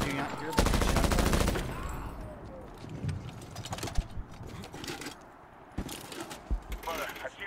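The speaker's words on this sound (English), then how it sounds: "Do you not hear the shot fire?" Gunfire in the 2010 Medal of Honor shooter game: a loud burst of rapid automatic fire, then scattered distant shots and pops over ambient battlefield noise, with someone talking intermittently.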